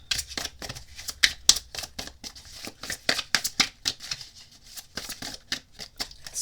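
A deck of tarot cards being shuffled by hand, a run of crisp, close riffling snaps and flutters in quick irregular bursts, with soft handling rustle between them.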